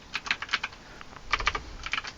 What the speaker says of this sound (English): You can actually use the keypad to type that in.